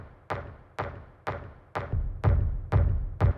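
A noise layer from the Kick 2 plug-in stacked on a techno kick thumps in a steady pulse, about seven hits roughly half a second apart, each a dull boom with a noisy decaying tail, growing fuller toward the end.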